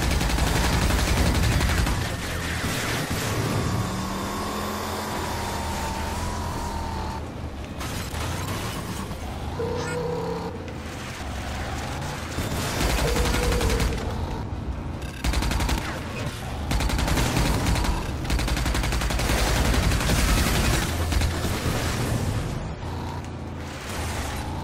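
Gunfire in the Rage video game, dense sustained bursts of rapid shots and mechanical clatter filling the whole stretch, loud and close, with occasional talk underneath.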